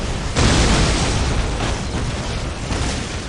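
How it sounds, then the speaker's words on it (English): Explosions in the strategy game Dawn of War amid plasma shots and missiles, a loud booming burst followed by a sustained rumbling wash of blasts. "Explosions."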